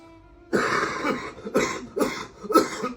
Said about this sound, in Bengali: দেখেছো কত কাশি হয়েছে